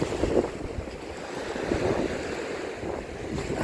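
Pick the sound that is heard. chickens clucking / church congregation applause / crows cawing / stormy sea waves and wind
stormy sea waves and wind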